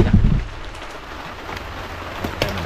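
Rain falling outdoors at a rural fishing spot as a steady hiss with a low rumble at the start and scattered louder drops, moderately loud, with no speech.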